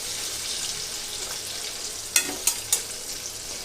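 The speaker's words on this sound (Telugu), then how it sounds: "కాకరకాయ ముక్కల్ని లో టు మీడియం ఫ్లేమ్ అడ్జస్ట్ చేసుకుంటూ చక్కగా వేయించుకోవాలండి" Bitter gourd pieces fry in a little oil over low to medium flame, a steady close hiss broken by a few sharp crackles and stirring knocks near the end.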